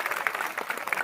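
Audience applause at a Hindi comedy poetry show, a brief burst of dense clapping from a crowd that carries steadily through the moment with no talk over it.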